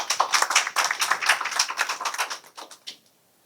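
Applause for a speaker at a UN high-level political forum side event on ocean action: dense, moderately close hand clapping from a modest audience, steady for about two and a half seconds before thinning to a few scattered claps and silence.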